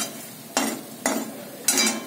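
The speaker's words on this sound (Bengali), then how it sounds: "মাছ ভাজা হয়ে গেল।" Khoira fish frying in a pan, heard as three short bursts of sizzling and stirring spaced about half a second apart, close and moderately loud against a quiet background.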